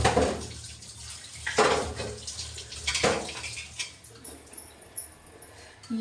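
A kadhai (wok) being washed with water in a home kitchen: steady running and splashing water with a few sharper sloshing bursts, close and moderately loud, no talking.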